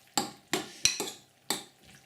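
Egg stirred into a hot noodle dish in a bowl, five or six sharp utensil scrapes and clinks against the bowl in an uneven rhythm, close and fairly quiet.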